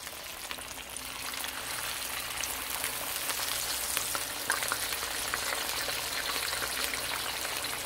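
Floured fish frying in hot oil in a pan, a steady, dense crackling sizzle that stays loud and continuous throughout, with small pops scattered across it.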